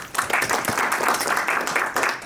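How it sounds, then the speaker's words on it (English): An audience at a tech panel show claps for a guest as he takes his seat, a moderate round of applause with scattered individual claps, steady across the short stretch. "Can I have a round of applause, please?"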